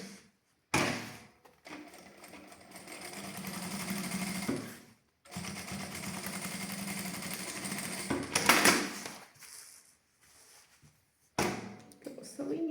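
Sewing machine stitching a patterned fabric lining, right side against right side, in long steady runs of motor hum separated by short pauses and a few clunks of handling, loud and close.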